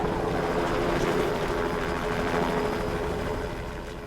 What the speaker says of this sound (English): The helicopter's drowning out Mike and I yelling.